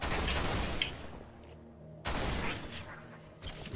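A gun in Halo: Reach fires two bursts of rapid shots, each a loud dense volley with a ringing tail, separated by a short quieter gap, followed by a sharp click at the end.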